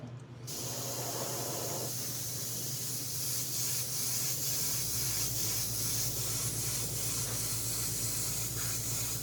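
An airbrush sprays in a steady, close hiss that holds at an even level for the whole stretch, with a slight change in tone partway through.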